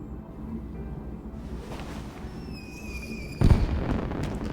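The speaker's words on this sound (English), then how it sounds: "Fireworks are beautiful" Fireworks and sparklers in the Love and Deepspace video game: a steady fizzing crackle with thin rising whistles, then a sudden loud burst near the end, with no talk.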